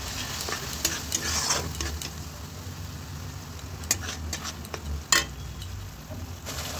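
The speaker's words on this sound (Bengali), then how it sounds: "যতক্ষণ না তেল ছাড়ে ততক্ষণ একটু হালকা ফ্রাই করে নেব।" A spice paste of ground mustard, poppy seed, ginger and chilli fries softly in oil, a low steady sizzle broken by sharp scrapes and clinks of a spoon stirring in the pan.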